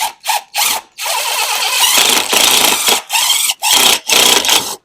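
Cordless screw gun driving screws into wood in a shop, heard as a series of loud whirring bursts, several short ones then longer sustained runs with brief pauses between, no talking.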